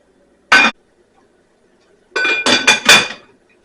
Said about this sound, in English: I'm going to put the lid on it so we can get that heat up.